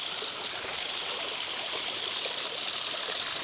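A waterfall on a Madeira levada pours in a steady, close, hissing rush of falling and flowing water, constant throughout with no voices.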